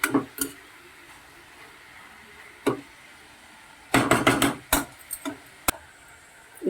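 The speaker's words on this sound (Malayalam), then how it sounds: "അപ്പോൾ നമ്മൾ ഈ പനീറിട്ട് നന്നായിട്ട് ഇളക്കി കൊടുത്തു." A spoon stirs paneer in a pan, with scattered sharp scrapes and knocks, a dense cluster of quick clatters in the middle and longer quiet stretches between them.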